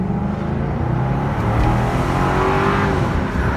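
A 2008 Cadillac XLR Roadster accelerates under steady engine drone, the exhaust note rising and holding at a fairly loud, continuous level from inside the car.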